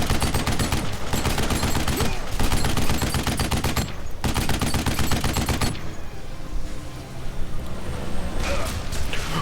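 Rapid automatic gunfire from the first-person shooter Duke Nukem Forever, dense, loud and continuous for several seconds with a brief gap, then fading into softer rumbling game noise and scattered impacts.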